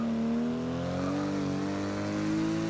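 A rear-wheel-drive car based on a 2 Series, spinning out in the Forza racing game, its engine whining in a steady rising tone that holds loud and unbroken from start to finish.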